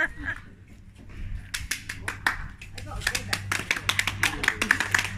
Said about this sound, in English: And what's all this clapping about? Oh, it's for the NHS workers.